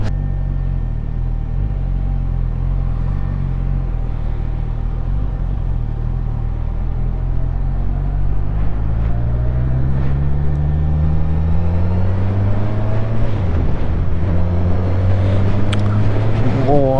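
A Suzuki Katana motorcycle ridden on a windy day gives a loud, steady engine drone mixed with wind buffeting, its pitch climbing as it speeds up near the end.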